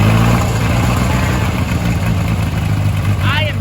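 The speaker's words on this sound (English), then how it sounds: "This tractor also started up nice and easily." Diesel farm tractor engine running at idle after a cold start, a steady low rumble with continuous mechanical chugging, close and loud throughout, with a brief higher whine near the end.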